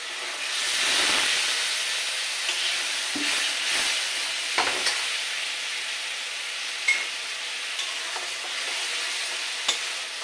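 A splash of water goes into a hot pan of spiced vegetables, fish and potato, bursting into a loud, steady steaming hiss that fades slowly, with a few faint stirring clicks.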